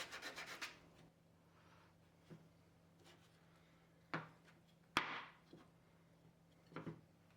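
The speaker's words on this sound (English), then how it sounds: "And now, some sanding." Quiet, sparse scraping and rubbing strokes against wood, a few short bursts separated by pauses, close by.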